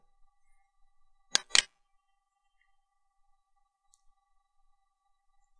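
Mouse clicking on a web page link: a quick pair of sharp clicks, close and crisp, against near silence with a faint hum.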